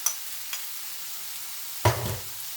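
Carrots, onions and peppers frying in a pan as a utensil stirs them, with a soft steady sizzle and a couple of brief scraping strokes, one sharper near the end.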